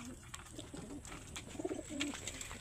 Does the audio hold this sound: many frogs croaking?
no